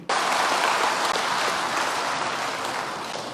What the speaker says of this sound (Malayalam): കൈയടി കൈയടി കൈയടി